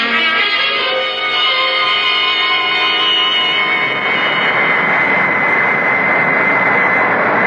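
A steady airplane engine drone in flight, staged as a radio drama sound effect, fills the whole stretch loud and even with a rising high whine, no voices over it.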